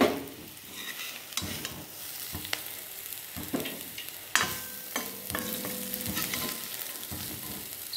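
Baby potatoes being stirred and fried in an iron pan, a steady oily sizzle with scraping strokes of a spoon against the metal, close up and without talk.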